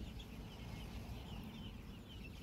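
Kaveri chickens of the same age, about 30 days old, cluck steadily in a crowded poultry farm shed, a dense continuous murmur of many birds with no talking.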